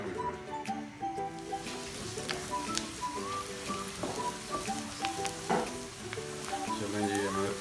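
Onion and keema mince fry in a pan with a steady crackling sizzle, while a spoon stirs and clinks against the metal now and then, moderately loud and close.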